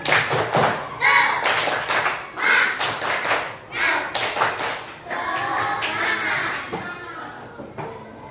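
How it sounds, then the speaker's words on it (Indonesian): Schoolchildren in a classroom doing a rhythmic spirit clap, sharp patterned bursts of clapping that alternate with chanted group voices, close and loud, ending in a sustained sung or shouted phrase. "Supaya lebih bersemangat, tepuk semangat."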